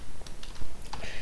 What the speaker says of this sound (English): I'm just going to start typing here, just gibberish, but pretend I'm typing words